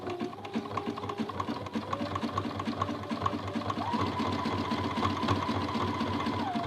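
A sewing machine stitching fabric for a miniature quilt runs close and steady, a continuous rapid mechanical whirr with a rhythmic needle clatter.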